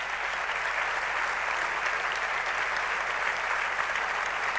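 Audience applause for award recipients at a rural pharmacists' ceremony, a steady, even wash of clapping held at moderate volume throughout.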